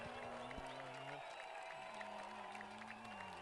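A high school football crowd roars and cheers in a steady, dense wash of noise at a stadium, with a public-address voice sounding over it.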